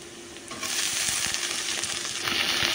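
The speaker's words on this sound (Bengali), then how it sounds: "আমি করলা ভাজির জন্য আলুটা ভালো করে ভাজে নিতেছি, পেঁয়াজ কাঁচামরিচ লবণ এগুলো দিয়ে" Potatoes frying in hot oil with onion, green chilli and salt for a bitter gourd dish, a steady close sizzle that swells after half a second and holds, with faint stirring clicks and scrapes underneath.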